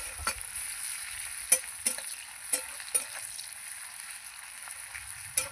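Onion frying in oil in a pan for a spiced tilapia dish with mustard paste, a steady low sizzle with a few sharp clinks of a spatula against the pan, close and alone.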